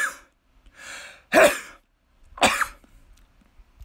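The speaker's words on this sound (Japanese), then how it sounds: "ちょっとくしゃみが。" Two sharp, explosive sneezes about a second apart, close and loud, in a quiet room.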